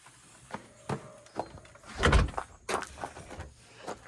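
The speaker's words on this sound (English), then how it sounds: "The door is pulled shut." An SUV door is pulled shut outdoors, giving a single solid thump near the middle, with scattered handling clunks and rustles before and after.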